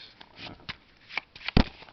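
Playing cards for a Lord of the Rings card game are shuffled close by in a few quick bursts of crisp riffling clicks, ending in one louder snap.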